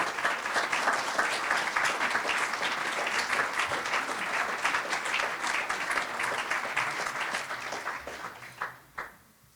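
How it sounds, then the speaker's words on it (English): Sustained applause from an event audience celebrating the reclamation of battlefield acres, dense steady clapping that carries evenly for several seconds before thinning out and stopping near the end. "And let's give her a big round of applause."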